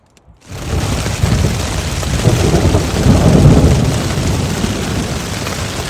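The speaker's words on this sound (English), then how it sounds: "now we're starting to hear the thunder" Thunder rumbles low and long, building to a deep roll, while steady rain patters heavily on a tent close by, on the John Muir Trail.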